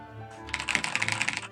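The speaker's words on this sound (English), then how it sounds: "What's it called when the keyboard clicky loudly?" Mechanical computer keyboard clicking loudly, a rapid run of sharp close keystrokes in an uneven rhythm after a short pause, with little else around it.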